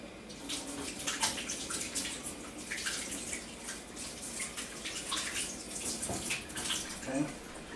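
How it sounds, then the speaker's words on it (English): Hands are washed under a running tap in a home kitchen. The water splashes and gurgles steadily at close range with uneven bursts throughout, and a voice speaks faintly underneath. "let me wash my hands."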